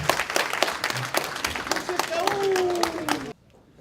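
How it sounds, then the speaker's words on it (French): An audience applauds at a New Year's greetings event in New York with brisk, crisp clapping, while a whistle-like tone glides through the middle, before it cuts off abruptly into near silence. "Merci de l'applaudir très fort"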